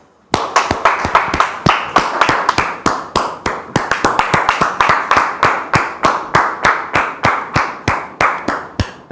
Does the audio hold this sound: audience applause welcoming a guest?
yes